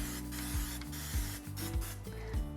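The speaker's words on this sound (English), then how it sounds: "I'm just gonna give it a generous spray of cooking spray" Cooking spray hisses into a muffin tin in repeated short bursts, each a broad airy spray with a low rumble underneath, close and even in loudness.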